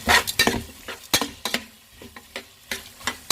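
Red cow peas sautéing with rock salt in a pan, a spoon scraping and clinking in quick irregular strokes over a soft sizzle, close and moderately loud.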